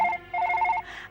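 A telephone rings, with two short electronic trill bursts in quick succession, clear and close, with no one speaking.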